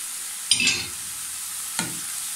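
Garlic cooks in a pan for a potato and ground beef tart, keeping up a steady background sizzle broken by two short stirring scrapes, one early and one near the end.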